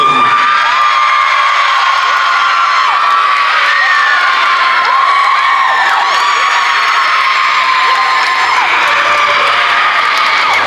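At an anime night market in a mall, a packed crowd roars its approval for cosplayers, with steady loud cheering, sharp whoops and children's shouts blending into one sustained wall of noise from start to finish.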